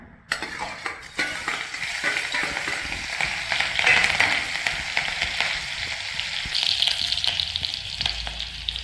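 Cut green chili fries in hot coconut oil in an appam pan with a continuous close crackling sizzle, a few metallic ticks near the start and brief brighter bursts of spitting oil, with no talking.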